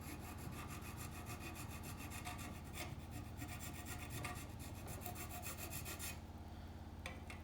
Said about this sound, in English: I'm filing this down a bit,